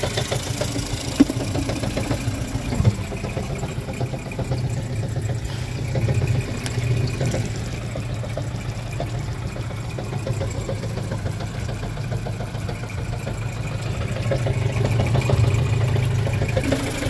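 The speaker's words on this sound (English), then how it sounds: "These are damn quiet little 2-strokes." A 1988 Mariner 8hp long-shaft two-stroke outboard motor idles steadily with its cover on, a close, even low burble with light mechanical rattle throughout, alone with no talk.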